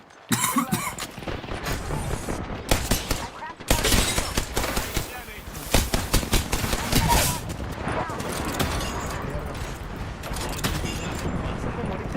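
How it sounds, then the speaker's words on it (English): Automatic gunfire in the video game Apex Legends sounds as rapid loud bursts and repeated shots, dense and close, while a voice speaks over part of the action. "Opening fire on our prey."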